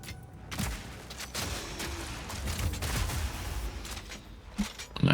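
Rapid volleys of crossbow fire in Path of Exile 2 combat, dense repeated shots and impacts layered over game effects, fairly loud and continuous with a sharp burst at the end.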